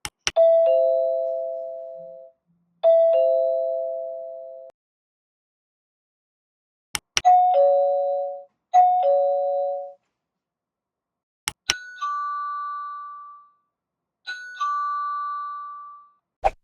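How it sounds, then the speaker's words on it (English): An Aqara G4 video doorbell chime plays three ding-dong ringtones in turn, each a pair of clean two-note chimes separated by silence, the pitch rising with each set, heard close and alone. "The Chime itself offers 3 standard ringtones which are all basically the same apart from the pitch that they're played at."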